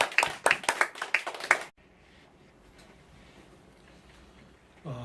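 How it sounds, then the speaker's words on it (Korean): A congregation claps at a prayer meeting, a burst of about six loud, hearty, rhythmic claps that stops abruptly and leaves quiet room tone behind. "영광의 박수 올려드립니다"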